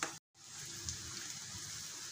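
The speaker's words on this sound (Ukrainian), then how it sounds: "Цибулю нам треба пожарити до золотистого кольору." Onion fries in a pan with a steady, close sizzle after a brief silent break near the start. A faint stirring clink comes part way through.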